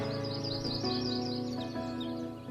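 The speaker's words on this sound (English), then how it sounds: "Where are these birds going?" Cartoon birds chirp in quick, repeated tweets over a steady musical background, moderately loud throughout.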